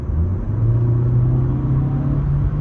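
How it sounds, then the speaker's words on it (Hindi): A VW Golf 1.5 TSI engine drops a gear at Autobahn speed, a steady loud low rumble with a rising drone and no voices over it. "भाई वाह, क्या डाउन शिफ्ट किया गाड़ी ने।"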